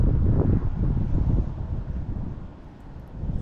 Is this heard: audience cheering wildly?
no